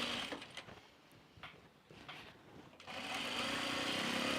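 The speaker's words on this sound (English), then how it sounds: "So I am gonna now just stitch it down along both long sides." A sewing machine stitches down the long sides of fabric for a laundry basket, its motor whirring close and steady. It runs in uneven spurts, then settles into a sustained, faster hum toward the end.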